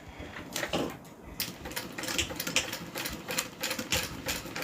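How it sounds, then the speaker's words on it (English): A sewing machine makes a short run of quick, clattering stitch strokes, close and fairly loud, with irregular tapping beats and no talking. "I'm just going to add another stitch"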